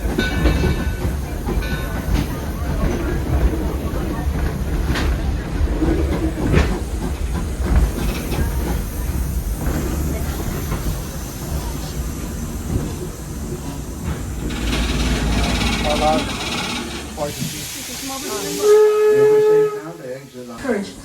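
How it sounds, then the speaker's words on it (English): A passenger train ride at Greenfield Village, with steady rumbling wheels and hiss throughout, then a loud steam whistle sounding near the end. "Sit back and enjoy the train ride."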